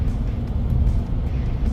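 A car on four-season tires cruises at about 112 km/h on a wet, slippery highway, with a steady low road rumble and tire hiss throughout.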